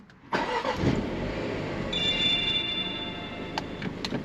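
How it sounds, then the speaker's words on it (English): A Jaguar Land Rover car engine cranks and catches after a brief pause, then settles into a steady, fairly quiet idle, with a thin electronic tone and light ticking over it. "let's start this car"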